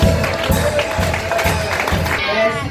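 Audience applause and cheering fill a church celebration for a children's event, steady clapping and acclamation from a large crowd with voices mixed in, sustained and fairly loud throughout.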